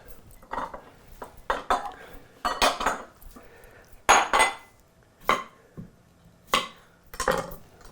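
A knife chopping the ends off potatoes on a cutting board, about a dozen sharp, separate knocks and clicks in an irregular rhythm, close and fairly loud, with no talking.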